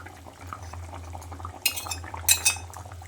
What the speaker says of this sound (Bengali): এবার এই পর্যায়ে আমি ভেজে রাখা বেগুনগুলো দিয়ে দিচ্ছি।